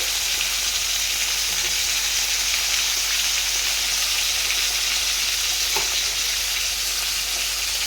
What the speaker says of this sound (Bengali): মাছগুলো ভেজে নেব ভালো কড়া করে।